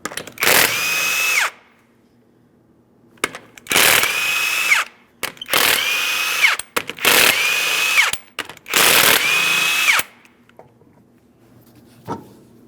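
A power impact tool spinning off the 21mm lug nuts on the rear wheel of a 2005-2010 Chrysler 300, five loud whirring bursts with short pauses between them and faint clinks afterward.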